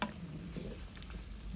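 Spicy sardine gravy made with canned sardines fries in a pot over medium-low heat, giving a soft, steady sizzle and crackle close by with no talking.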